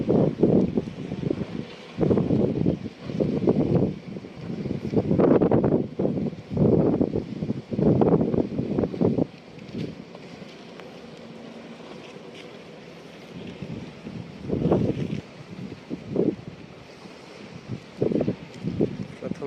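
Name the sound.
river waves hitting a fishing boat on the Padma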